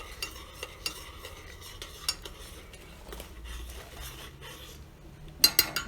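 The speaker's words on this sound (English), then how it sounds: "now we're melting butter in this Dutch oven" Butter melting in a Dutch oven, with metal utensil scrapes and stirring taps against the pot and a soft low sizzle underneath, closing on a few sharper clinks.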